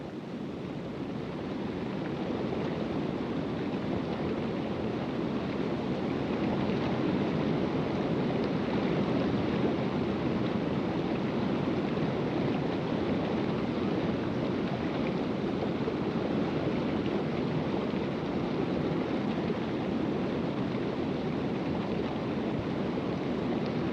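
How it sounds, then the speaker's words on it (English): A mountain waterfall roars as a steady, broad rush of falling water, loud and unbroken throughout with no voices. "The spectacular waterfalls of mountain regions are often incredibly beautiful."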